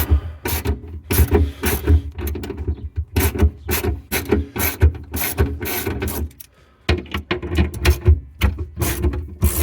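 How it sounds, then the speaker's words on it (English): Socket ratchet clicking in quick bursts while 10 mm bolts are loosened on the hydraulic pump of a Mercedes R129 SL, close and loud, with short pauses between runs of pawl clicks. "Got a socket, and I'm going to go ahead and get these. These are the 10 millimeters."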